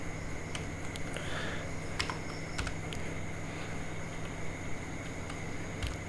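Keys tapped on a computer keyboard while writing HTML code, quiet irregular clicks spaced out over a faint steady background hum.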